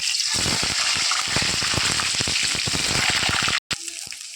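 Eggs dropped into hot white oil in a wok sizzle and spit loudly and steadily, with rapid crackling pops throughout, briefly cutting out near the end before resuming.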